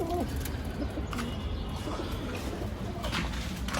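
Pigeons cooing inside a home loft while being fed indoors, a steady murmur of low coos blending with a constant background hum, moderately near throughout.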